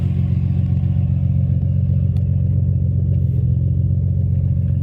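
A stock-leaning 1993 Nissan Skyline R32 GTR with an intercooler and aftermarket street-legal exhaust idles close by, a loud, steady low rumble with an even throb and no voices.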